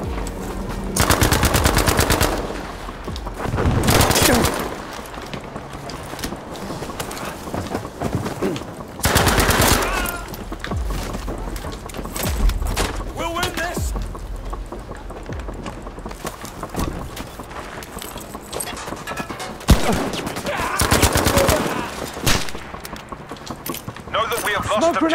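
Loud bursts of machine gun fire from the Battlefield V video game, with long rapid rattling volleys, shorter shots in between and ongoing battle noise. Someone talks over parts of it.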